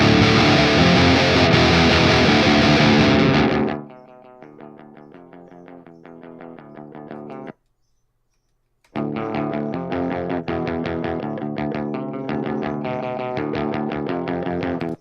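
An amp-simulated guitar with a very low input signal: a loud, distorted burst cuts to thin, quiet picked notes, a brief silence, then more weak, thin-sounding playing without any voices.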